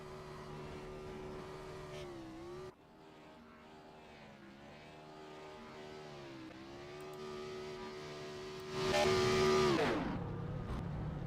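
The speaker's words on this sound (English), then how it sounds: "quick little burnouts there" Sim racing Xfinity Series race cars at a virtual Texas Motor Speedway, a steady whining engine tone that dips and rises, then a brief louder revving burst near the end, with no talk.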